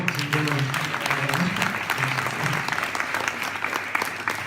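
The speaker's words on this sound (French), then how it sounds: "Il faut les applaudir encore." A film festival audience claps throughout an awards ceremony, a dense, continuous applause from a moderately distant crowd with no voices over it.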